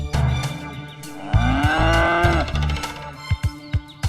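A buffalo on a family dairy setting gives a loud, drawn-out moo up close, followed by a few short thumping knocks, with no talk.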